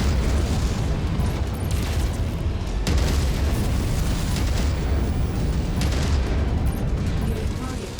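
AC2 autocannon fire and explosions from the MechWarrior 5 Mercenaries video game. Dense, loud booms and blasts run almost without a break, with a sharp burst near the middle and heavy rumbling throughout.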